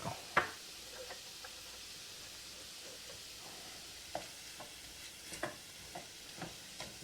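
Shrimp sprinkled with paprika are stirred in a frying pan for shrimp and grits, giving a faint, low hiss of frying with scattered light clicks and taps from the utensil. No talk.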